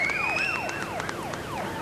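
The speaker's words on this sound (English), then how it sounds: "You hear the sirens outside." Emergency vehicle sirens wail outside, a repeating falling yelp pattern with several overlapping tones, moderately distant and steady, with no talk over them.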